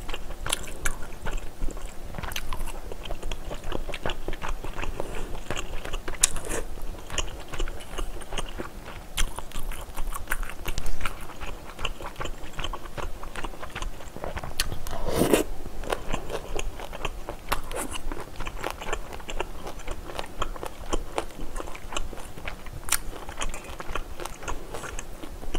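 Close-up eating of squid, shrimp and scallops, with continuous wet chewing, biting and crunchy mouth sounds, steady and intimate, with no talking.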